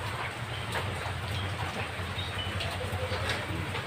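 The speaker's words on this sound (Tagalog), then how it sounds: "Umuulan na naman ng umaga." Steady morning rain falls close by, a dense continuous patter on surfaces with faint bird calls in the background.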